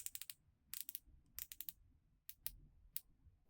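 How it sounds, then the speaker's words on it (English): A ceramic 120-click watch bezel turning in bursts of crisp, rapid ticks, several quick runs of clicks separated by short pauses, close and fairly quiet with no talking. "So it's a 120 click ceramic bezel"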